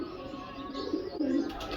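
Soft, low pigeon cooing murmurs continuously close by, with a slightly louder swell of coos near the end.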